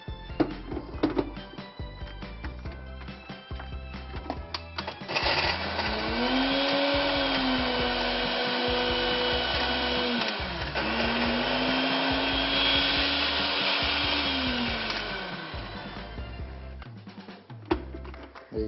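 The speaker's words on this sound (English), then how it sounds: "So quickly I'll blend." A blender crushes ginger biscuits for a banoffee pie base in a kitchen, starting with clattering knocks, then a loud steady whirring motor that dips briefly and resumes before winding down.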